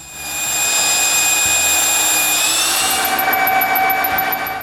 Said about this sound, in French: avec une scie cloche, je perce le gros trou pour la poignée.